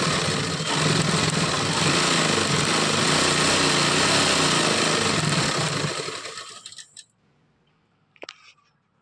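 An electric sewing machine stitches the back seam of narrow palazzo pants, running as a loud, fast, buzzing whir for about six seconds before winding down to stop, followed by a couple of faint clicks.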